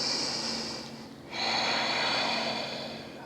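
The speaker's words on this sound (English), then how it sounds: "2 more breaths." Deep, audible breaths during a yoga practice, a long airy exhale followed after a brief pause by a strong, sustained breath through the nose, close and fairly loud with no talking.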